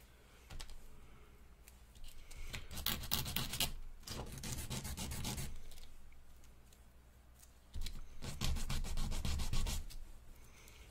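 Sanding down a sculpted designer toy piece by hand, with bursts of brisk rhythmic rubbing strokes separated by short pauses, close and moderately loud.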